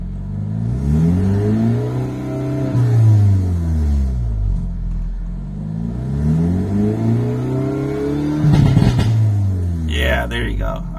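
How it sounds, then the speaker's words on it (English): A 2024 Hyundai Elantra N exhaust revs up and down twice in rising and falling sweeps, then lets out a short burst of crackles and pops, loud and close, with a voice talking over it. "this exhaust is awesome. It sounds nice, and it has some nice crackles and pops."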